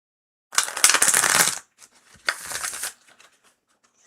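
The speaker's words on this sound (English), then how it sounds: "That's a good shuffle." Tarot cards shuffled close up in two quick riffling bursts, the first about a second long and the second shorter, each ending in a soft tap, with near silence before, between and after.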